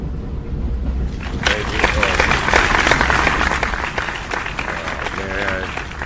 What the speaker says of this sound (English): You guys are supposed to clap, not laugh at the guest.